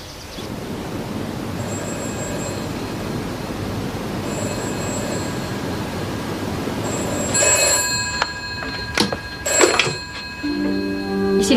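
Telephone ringing at a vicarage, bursts of bright bell ringing that repeat over a steady low background rumble, louder and more insistent toward the end.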